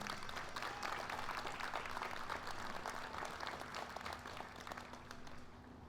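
Sustained crowd applause for Tribal Chief Cyrus Ben at the opening ceremonies of the 70th Annual Choctaw Indian Fair: dense, even clapping from many hands continues steadily throughout, fading slightly toward the end.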